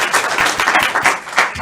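An audience applauds and cheers for two costumed guests, Aragorn and Kylo Ren, at a live French stage show, with dense, steady clapping filling the room for under two seconds.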